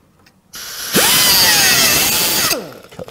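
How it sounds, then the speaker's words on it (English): A die grinder cuts a half-inch trim piece on a Monaco raised floor slide, spinning up to a loud, sustained whine whose pitch sags and recovers under load, then winds down near the end. "Now with the die grinder, you're going to want to keep it fit up at an angle"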